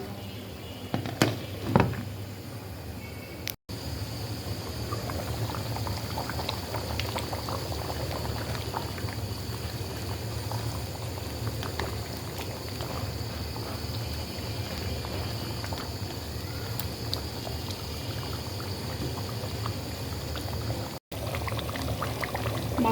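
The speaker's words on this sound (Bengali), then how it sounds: "এরকম ঢাকনা দিয়ে ঢেকে আরও বেশ কিছুক্ষণ রান্না করছি" Beef korma cooking in a lidded pot, a low steady bubbling and hissing simmer that continues evenly for a long stretch, faint and without talk, with a couple of brief knocks early on.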